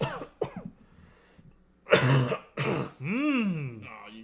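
Someone coughs and clears their throat in a few rough bursts, followed by a strained vocal sound, close up against a quiet background.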